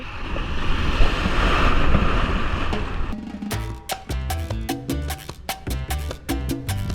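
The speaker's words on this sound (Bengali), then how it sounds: "আরো একটা বড় ঢেউ আসছে" A big sea wave breaking on a quiet, secluded beach at Dublagadi, Balasore: a loud rushing surge of surf and wind for about three seconds, then a clattery, choppy rumble as the water settles.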